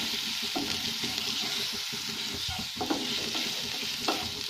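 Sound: ginger garlic green chili paste sautéing in pan

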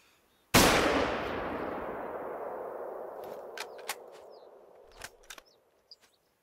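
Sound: rifle shots hunting bison in theHunter: Call of the Wild video game

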